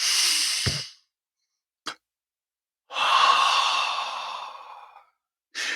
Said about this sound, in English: you breathe in through your nose, open up, you breathe out the tension